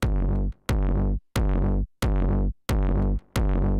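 A deep, booming kick drum from a Roland TR-8S drum machine hits six times in an even, steady beat, each hit sustained and heavily compressed before a brief gap.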